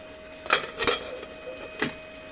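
A metal lid clatters onto a cooking pot of kinamatisang isda, fish simmered with tomatoes, in three or four light, separate clinks with short pauses between them, close and fairly quiet over a faint steady hum.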